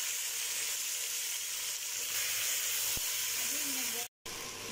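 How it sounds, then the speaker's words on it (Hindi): Beef pieces frying in oil over browned onions give a steady, fairly loud sizzling hiss that runs without a break and drops out briefly near the end. "गोश्त को अच्छे से भून लेंगे"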